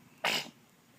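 A single short, sharp sneeze close by, bursting abruptly and fading within a fraction of a second over quiet background.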